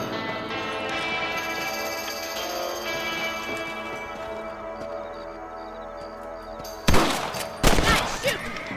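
Gunshots from a rabbit hunt in Red Dead Redemption: after a stretch of steady background tones, three sharp rifle cracks ring out near the end, spaced about a second apart, with some voices under the scene.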